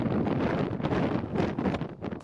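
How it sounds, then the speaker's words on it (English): Heavy wind buffets a microphone outdoors near a tree, a loud, continuous rumbling roar with gusty swells throughout, no voices. "If you can't hear how windy it is, then it's testament to this microphone"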